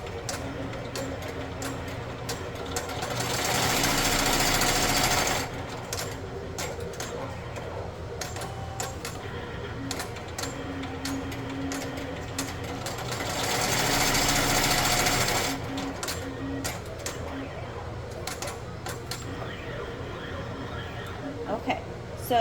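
Embroidery machine stitching the placement outline for an appliqué, heard as two sustained bursts of fast, steady needle clatter with quieter mechanical ticking and handling noises between them.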